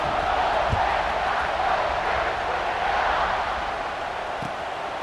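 Football stadium crowd cheering after a scoring drive, a broad continuous roar that holds steady and eases slightly toward the end.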